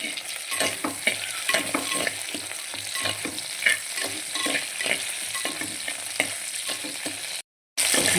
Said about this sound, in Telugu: బెండకాయ ముక్కలు మంచిగా వేగిపోయినాయి కదండి